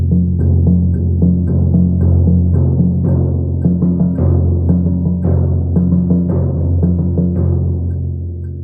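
Timpani etude played softly at piano, a steady flow of low, resonant drum strokes in a counted rhythm, each note ringing into the next with a gently fading end, heard alone without talk.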